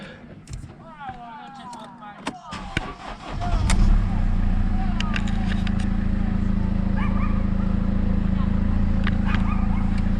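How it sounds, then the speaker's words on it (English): A Mercedes C-Class W204's engine cranks and catches around the three-second mark, then settles into a loud, steady idle, with some clatter and movement before it starts. "If you start the car"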